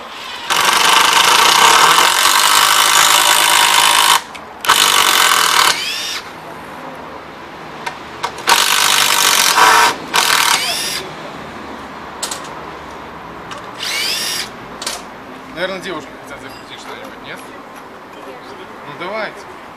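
A Makita power screwdriver drives a screw in loud, close bursts of high motor whine, with long runs and shorter spurts separated by pauses where people talk.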